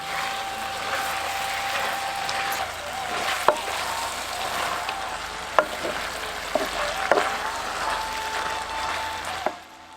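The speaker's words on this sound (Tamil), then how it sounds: "இப்ப பறிச்சு வச்சிருந்த 150 கிராம் புளிச்சக்கீரையும் சேர்த்து நல்லா வதக்க ஆரம்பிச்சிடலாம்." Gongura (sorrel) leaves sizzle and fry with mutton in a pan, a steady loud crackle with scattered sharp clicks of a spoon stirring against the metal, no talking.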